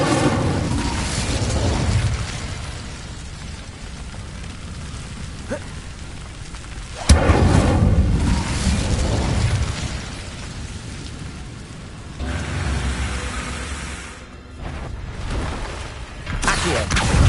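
Fire spells blasting in the video game Hogwarts Legacy: loud bursts and booming impacts over a rumbling, rain-like roar, with sharp hits standing out at intervals.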